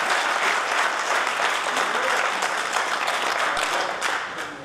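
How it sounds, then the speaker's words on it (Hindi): Loud, sustained applause from a crowd of traders at a political rally in Uttar Pradesh, dense steady clapping filling the whole stretch and easing slightly near the end. "अगर सही कह रहा हूं व्यापारी भाइयों तो जोरदार तालियां तो बनती है ना।"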